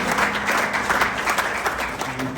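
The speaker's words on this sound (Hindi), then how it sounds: "इनके लिए भरपूर ताली होना चाहिए" Audience applause at a cricket association's annual general captains meeting, steady dense clapping from a room full of people, sustained and fairly loud for the whole stretch.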